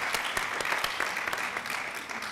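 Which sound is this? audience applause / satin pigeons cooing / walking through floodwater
audience applause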